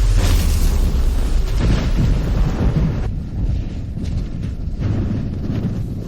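A sudden, powerful wind roars loudly and continuously as a disaster begins, with heavy low rumbling and gusty buffeting that eases slightly midway, then keeps blowing without any talk.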